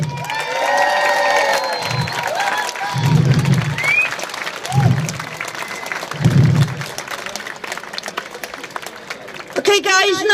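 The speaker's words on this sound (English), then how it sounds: "So can we give another round of applause for the amazing" An outdoor rally crowd in Cardiff claps and cheers, with whoops and shouts rising over the clapping and some voices mixed in, swelling in waves and ending in a burst of clapping.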